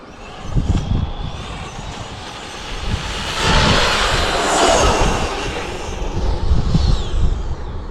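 Two electric RC cars, a Mini E-Revo VXL and a Bandit, race off the line, their motors rising into a loud, rushing whir with tire and gravel noise close by, without talk.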